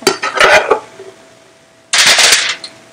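Aluminum foil is crinkled and folded into a pocket in a kitchen, two loud close bursts of crisp rustling separated by a short quiet pause.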